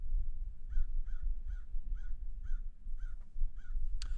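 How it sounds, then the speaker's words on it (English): Birds in the video game Paradise Killer give a steady series of cawing, crow-like calls, about two per second, over a low rumbling ambient bed, with a sharp click near the end. "There are the birds."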